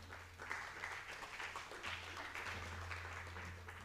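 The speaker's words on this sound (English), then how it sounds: "A warm applause" A conference audience at a planetary health event applauds a doctor coming on stage, steady and moderately distant clapping that holds evenly throughout, with a low hum beneath.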